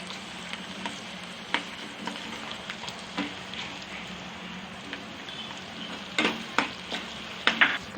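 Onions fry in oil in a pan for potato koonipodi, giving a steady crackling sizzle with occasional sharper pops and stirring scrapes near the end, close by with no talk.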